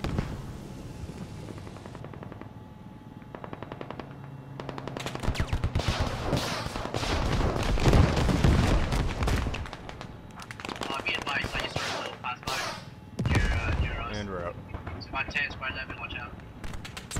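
Sustained machine gun bursts and heavy gunfire in the video game Squad, on a modded server during an attack helicopter fight, loud and close, coming in dense rattling volleys that swell and fade, with players talking over radio between bursts.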